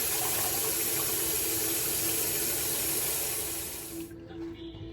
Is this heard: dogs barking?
no